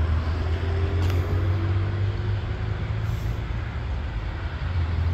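A Brightline passenger train passes at a Florida grade crossing near Pompano Beach, giving a steady heavy rumble and low engine drone that stay fairly loud throughout, with no talking.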